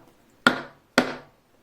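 Two sharp, loud chisel strikes chop into wood for a bow-saw mortise, spaced about half a second apart, each with a bright crack and a brief woody ring that fades.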